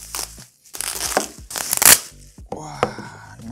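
Packaging for a Realme Book laptop is handled during unboxing: close, loud crinkling and crunching of plastic and cardboard in irregular bursts, with brief pauses.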